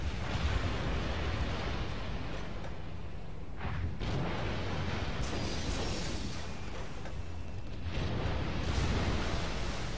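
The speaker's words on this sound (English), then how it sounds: "My battleships are returning fire." Warship battle in the naval game Steel Ocean, with dense, continuous rumbling artillery fire and explosions filling the mix, occasional sharper bursts and a higher whooshing launch partway through.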